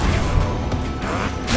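Incendio fire spell cast in the Hogwarts Legacy video game, a dense continuous burst of crackling, whooshing combat noise with a few sharp impacts throughout, loud and steady for a second and a half.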